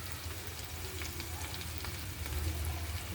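A soft, steady sizzle of tuna (tambakol) slices frying in hot oil, with faint crackles and a low hum beneath, no speech.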